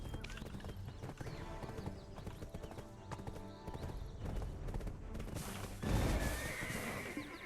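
A horse gallops in the Black Desert Online video game, with quick hoofbeat clip-clops and a whinny over busy game sounds and background music, fairly faint overall.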